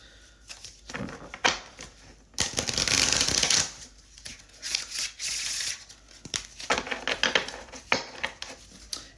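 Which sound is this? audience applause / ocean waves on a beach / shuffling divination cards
shuffling divination cards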